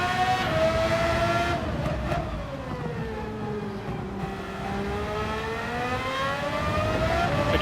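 An F3500 race car in a racing video game on the Spain track sounds close and steady. Its engine pitch dips as it brakes and downshifts, then climbs again as it accelerates, with no speech.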